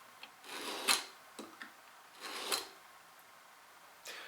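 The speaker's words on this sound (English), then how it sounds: "I'm going to use the marking knife just to mark those lines in" A marking knife scores cut lines into a wooden table component, producing a few short, soft scratching strokes, close and quiet, separated by brief pauses.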